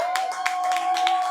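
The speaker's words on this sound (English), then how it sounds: "Another round of applause, Leanne" Audience applause at a live talk event, a steady wash of clapping from a crowd with sustained tonal ringing underneath, fairly loud and continuous throughout.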